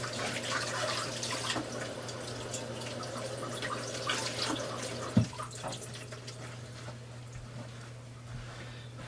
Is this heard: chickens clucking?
no